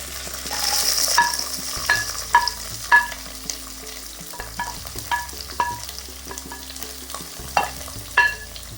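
Chopped onions and green chillies frying in hot oil while being stirred, with a steady sizzle and repeated clear scrapes and clinks from the spoon against the pan, fairly loud and close with no voices.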